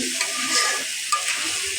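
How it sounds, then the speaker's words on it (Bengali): Meat for biryani is sautéed and stirred in a pan, giving a loud, continuous sizzle with a few sharp scraping ticks from the stirring. "আমরা আজকে বিরিয়ানি পাকাবো এই যে মাংস কষানো হচ্ছে"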